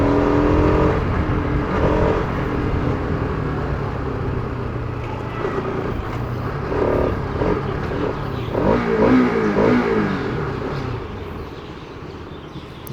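A Bajaj Pulsar RS200 motorcycle engine revs while riding, a rough mid-pitched drone with throttle surges rising and easing over wind noise, heard close and continuous without talk.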